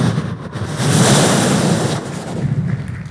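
A mimicry artist voices the sound of the sea, a continuous breathy roar that swells loudly around the middle, eases off and builds again, imitating surging ocean waves alone without other talk.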